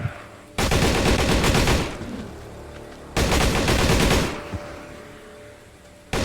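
Gunfire in the video game Darkest Days, aimed at a large zombie: two long, loud sustained bursts of rapid shots, each lasting over a second and followed by a fading tail, with a third burst beginning at the end.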